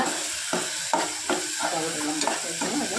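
Cauliflower gravy masala sautés in a pan, a continuous sizzle broken by rhythmic stirring strokes about every half second, close and fairly loud.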